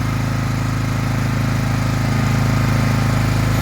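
A Genergy Veleta 2.8 kW petrol generator runs steadily on test, a constant close engine drone with a low hum and no change in pitch throughout.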